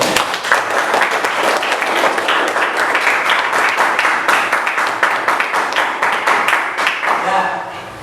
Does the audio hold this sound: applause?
yes